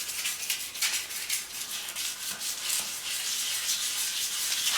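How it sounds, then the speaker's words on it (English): Continuous scratchy rasping of sandpaper rubbing back and forth, close and steady, with no talking. "when I start sanding"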